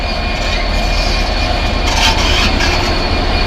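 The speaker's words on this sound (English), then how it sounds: "we got a Freightliner Class 66 now, hauling a container train for Ipswich Station." A Freightliner Class 66 diesel locomotive hauling a container train rumbles past close by at Ipswich Station, a steady loud engine drone with clanking wagons and faint wheel squeal.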